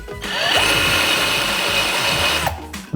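A power drill whines steadily with a gritty grinding edge as it bores into hard ceramic, running continuously before briefly stopping near the end.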